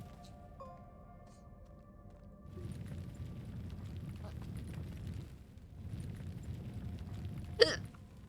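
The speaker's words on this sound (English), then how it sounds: "I'm hungry and I got the hiccups." A single sharp hiccup from a man near the end, loud and abrupt against a low, steady background rumble.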